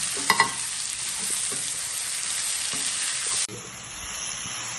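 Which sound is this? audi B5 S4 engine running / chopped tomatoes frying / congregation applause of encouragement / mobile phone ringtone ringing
chopped tomatoes frying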